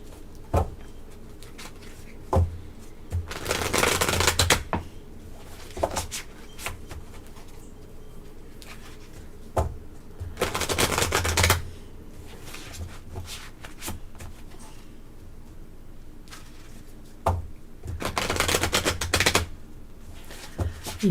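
A tarot card deck being shuffled in three separate bursts, each a few seconds of soft, dense riffling close by, with quiet pauses between them.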